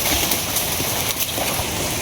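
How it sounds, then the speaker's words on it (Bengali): Steady rain falling on a morning, a continuous soft patter and hiss with scattered drops, fairly close and even throughout, with no voices. "আজকে সকাল থেকে বৃষ্টি আর কি"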